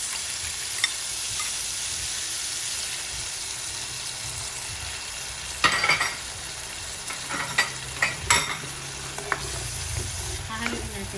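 Beaten egg and bitter gourd (ampalaya) frying in a pan, a steady soft sizzle with scraping stir strokes and clacks growing busier in the second half, alone and close.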